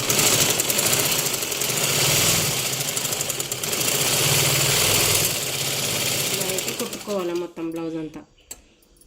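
A sewing machine stitching the side seam of a blouse runs in a loud, fast, steady mechanical chatter, then slows and stops near the end, with a voice talking over it.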